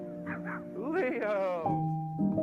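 Dogs yipping and whining with high, rising cries over a steady hum, a voice mixed in, close and fairly loud.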